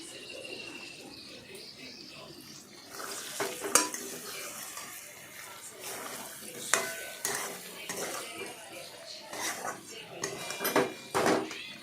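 Katla fish head muri ghonto being stirred in a pan: repeated scraping and clinking of a spoon against metal over a steady low sizzle, with louder knocks in bursts toward the end.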